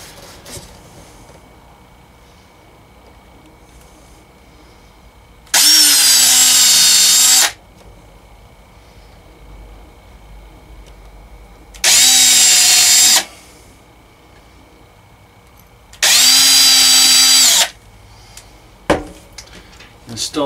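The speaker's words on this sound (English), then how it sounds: "and pre-drill our hole" A power drill pre-drills holes in cabinet and counter trim inside a DIY travel trailer, three loud, close whirring bursts of about one to two seconds each, separated by quiet pauses, with a sharp knock near the end.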